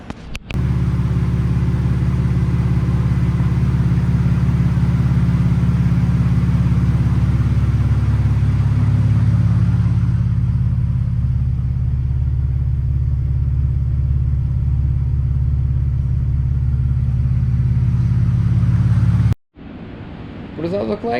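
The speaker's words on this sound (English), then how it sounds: "I have what sounds like piston slap." A VW VR6 12V engine with suspected piston slap runs steadily with a deep, continuous rumble and dense mechanical ticking, loud and close for about nineteen seconds before cutting off abruptly, then resuming briefly.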